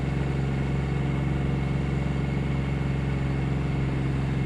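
Triumph motorcycle with a Sprint engine, jetted up with a freer-flowing exhaust and K&N filters, running steadily at idle with a low, even throb and no speech.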